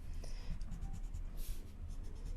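A marker shades the bottom of a drawing on paper with a steady, soft scratching rasp that runs throughout, faint and close, with low background hum beneath.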